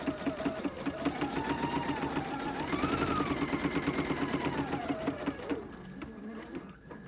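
A sewing machine hums steadily while quilting a quilt from its outer edge inward, a fast even stitching rhythm running for several seconds before it slows and stops near the end.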